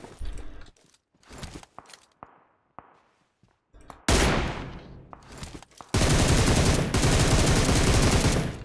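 Bursts of automatic gunfire in the battle royale game PUBG, short clustered shots at first, then loud sustained rapid fire filling the second half, with no talking.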